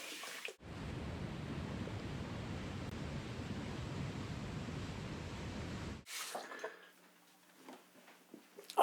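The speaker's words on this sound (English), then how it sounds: "All right, let's rinse off." Running water for a face rinse after shaving, a steady close hiss and splash lasting about five seconds, then it stops abruptly, followed by quieter handling sounds and drips.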